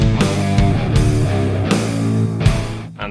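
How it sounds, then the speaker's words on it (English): Heavy, distorted electric guitar played through an Overloud TH-U virtual amplifier, chugging riff with sharp attacks at steady intervals, loud and close with a dense low end, no talk. "I'm gonna show you how to make a guitar sound like this."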